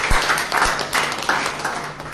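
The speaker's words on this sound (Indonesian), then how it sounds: "Berikan tepuk tangan bagi kita." Church congregation applauding during a sermon, a moderate burst of mixed clapping with a few sharp louder claps standing out, fairly close and steady for a couple of seconds.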